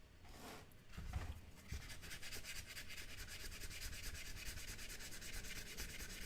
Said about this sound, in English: And some of these, you can kind of hear it as I sand.